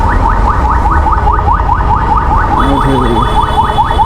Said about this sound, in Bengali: আল্লাহ পুলিশের গাড়ি আমরা ধরে লইব